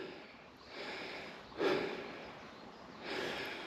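Heavy breathing from a person climbing a mountain, close and audible as two or three long, airy exhales with a sharper puff in the middle, and no talking.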